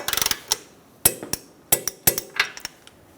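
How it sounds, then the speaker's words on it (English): Metallic clinks and taps of a 19mm socket wrench on the outer tie rod nut of a Chevrolet Sonic, a quick rattling burst followed by scattered sharp close strikes. "Using a 19mm socket, snug down the outer tie rod nut."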